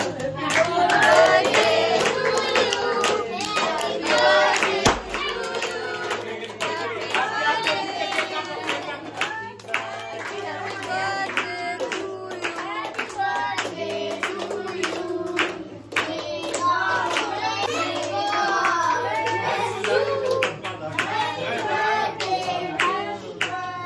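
Children clapping their hands at an outdoor gathering, with scattered bursts of claps under near-constant chatter and kids' voices. A brief thump sounds about five seconds in.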